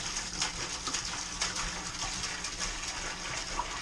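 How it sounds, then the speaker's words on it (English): Cold water pours steadily into a sanitized fermenter for making mead, a quiet continuous gushing with faint splashes and no talking. "I want to get some cold water in here first"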